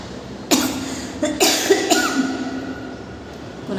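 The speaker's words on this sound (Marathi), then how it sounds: "खोकला येतोय" Several short coughs from a person, three separate bursts in quick succession, fairly close and fairly loud against a quiet indoor background with no speech.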